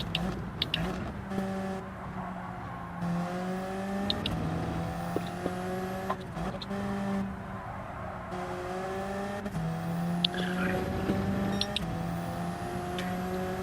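Race car engine in Gran Turismo 7, a steady droning whine rising and shifting through gear changes, continuous and fairly loud with occasional tire noise.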